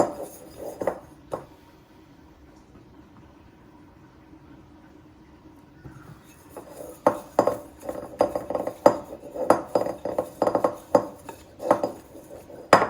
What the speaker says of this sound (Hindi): इस तरीके से इसको सब तरफ से अच्छी तरह ग्रीस कर लेती हूँ मैं